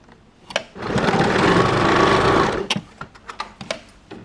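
A sewing machine runs in one steady burst of about two seconds, stitching a tuck in fabric, framed by brief clicks and handling noises before and after.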